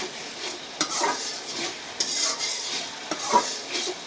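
Masala for hilsa fish curry being sautéed in a pan, a crackling sizzle broken by repeated spatula scrapes and taps against the metal, heard close with no speech.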